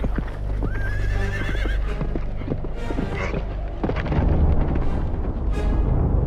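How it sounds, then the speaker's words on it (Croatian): A horse gallops for an audiobook scene, with rapid clip-clop hoofbeats, a loud whinny near the start and heavy rumbling thuds. The sound is close and fills the clip, with no narration over it. "doskoči na Veronovog konja koji je prešao sada na drugu stranu, te nastavio ludo trčati"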